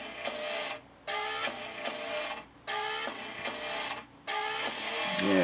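Singer 201-2 sewing machine stitching polyester, running in steady bursts of rapid mechanical whirring and clicking separated by brief stops, close and even in level.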